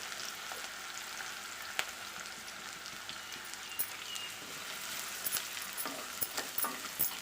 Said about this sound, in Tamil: வெங்காயம் போட்டு நல்லா வதங்கணும்.